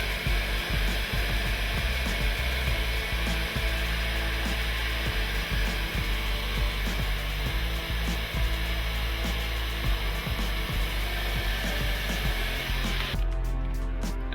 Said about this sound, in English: See how with the blower, the pick comes out a lot easier,